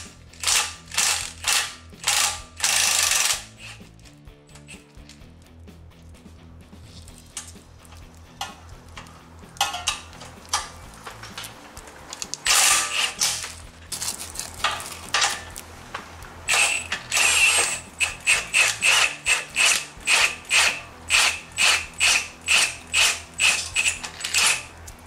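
A hand ratchet tightens a lower control arm bolt during a 2-inch lift kit install, giving rapid bursts of sharp clicking pawl strokes, some long runs and some short, close and distinct, with pauses between.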